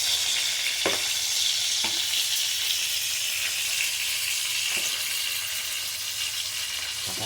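Fish fries in a pan with a loud, steady hiss of hot oil, broken by a few sharp pops and spatters close by.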